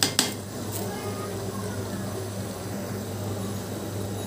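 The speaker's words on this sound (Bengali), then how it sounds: "এখন চালটাকে মাংসের সাথে ভালো মতো মিশিয়ে দিব, 3 থেকে 4 মিনিট ভেজে নিব যেন বিরিয়ানিটা ঝরঝরে হয়।" A metal spoon scrapes and clinks in a cooking pot as rice is mixed into meat for chicken biryani, with a couple of sharp knocks at the start, then a steady low scraping.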